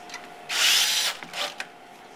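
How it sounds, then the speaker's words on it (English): Power drill driving screws into a wooden board on a CNC router bed, one short high-pitched whir followed by a second briefer burst, close and fairly quiet. "And then screw the board down."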